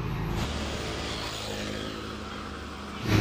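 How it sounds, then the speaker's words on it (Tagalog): Cars and motorcycles pass along a street in Barangay Apas, Cebu City, making a steady, fairly loud wash of traffic rumble with engine drone throughout and a louder vehicle approaching at the very end. "Dami sasakyan dito, napadaan mga kamaster"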